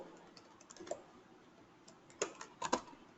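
Light, scattered keystrokes on a computer keyboard, a few isolated clicks followed by a short cluster near the end, quiet and close with no voice.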